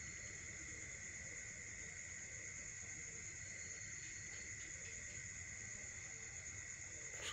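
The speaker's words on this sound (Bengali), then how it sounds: "ঝিঝি পোকার ডাক।" Crickets chirp at night around an empty madrasa near a graveyard, a steady high-pitched trill running unbroken and fairly faint throughout, joined by a second continuous chirping band with no voices.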